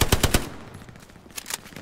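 Gunfire from the World War II shooter game Hell Let Loose, with a quick burst of three or four close shots, a brief lull, then a few more rapid shots near the end.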